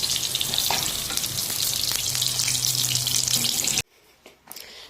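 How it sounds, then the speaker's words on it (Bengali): Eggplant slices fry in hot oil with a dense, steady sizzle that runs loud and unbroken, then cuts off abruptly, leaving near silence with a few faint clinks. "দেখো বেগুনগুলো এখন ভেজে নিচ্ছি"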